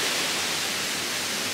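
Waterfall at Reach Falls in Jamaica's St Thomas and Portland area, a steady, dense rushing roar that stays loud and unbroken throughout with no voices over it.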